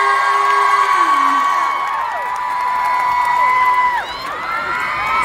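A concert audience cheers with loud, sustained shrieks and whoops rising over a crowd roar, close and continuous, with only light clapping beneath.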